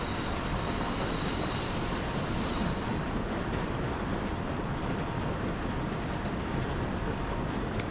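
A subway train in the World of Subways 4 game rumbles along the track at a steady loud roar, with wheels squealing high and continuous near the start and no voices over it.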